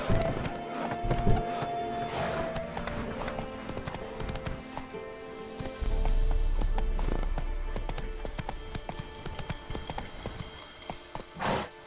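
Roach, a horse in The Witcher 3, galloping with steady rhythmic hoofbeats close by, mixed with game sounds and a brief low rumble partway through.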